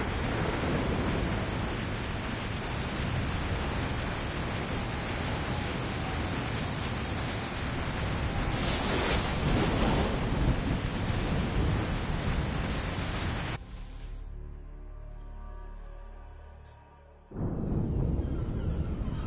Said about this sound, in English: We made it through the storm.